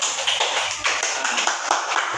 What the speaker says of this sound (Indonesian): Baik, tepuk tangan buat temannya.